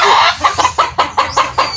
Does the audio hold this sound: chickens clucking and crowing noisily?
yes